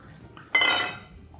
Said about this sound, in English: Then this is all of our garlic and we're just gonna dump it in whole